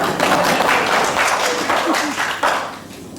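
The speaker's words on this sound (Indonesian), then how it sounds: "Tepuk tangan buat Mbak Cynthia." Audience applause for a woman named Cynthia at the opening ceremony of a library services office standardisation audit and awards event, with broad clapping throughout and voices mixed in.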